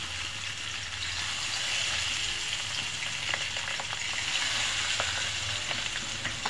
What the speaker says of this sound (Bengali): মাছ আমি নুন হলুদ মেখে নিছি, একে একে মাছটা ভেজে নেব।